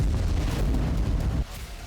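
A Houthi missile strikes Eilat city, a deep rumbling blast with heavy low roar for about a second and a half, then fading to distant background noise.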